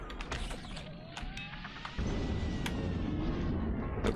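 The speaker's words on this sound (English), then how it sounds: "I'm gonna cover the one door over here that we can close, and I'm gonna close it" A heavy door in the GTFO video game grinds shut with a creaking mechanical whir, then a low rumbling drone swells and holds steady, loud and without voices.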